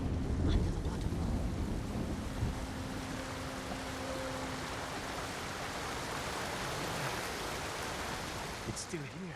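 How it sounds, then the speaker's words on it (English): A waterfall in the game Ghost of Tsushima roars as a steady, broadband rush of falling water, loud and close, with no break for the whole stretch. "Under the waterfall."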